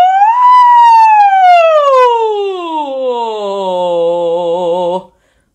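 A single human voice imitates a fire engine siren. It holds a high, bright pitch and then glides smoothly downward in one long, loud, pure-toned sweep, with a slight wavering at the low end before it stops abruptly.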